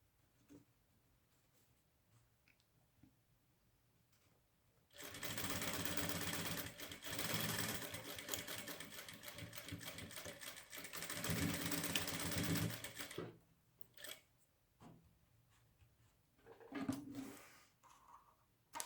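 A sewing machine stitches and backstitches fabric for a lunch bag, a steady loud whirring run of about eight seconds after a quiet stretch, followed by a few short bursts and light handling noises.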